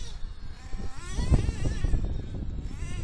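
A nitro-engine Alpha Dragon RC car running during break-in, its high buzzing two-stroke whine rising and falling close by with a brief surge around the middle, not yet reaching full revs.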